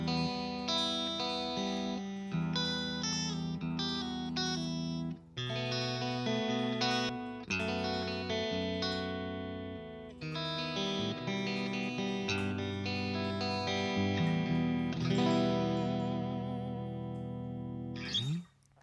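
Electric guitar played through a clean device B preset on a Quad Cortex modeler, sustained chords and picked notes ringing continuously with a smooth effected sheen, close and alone.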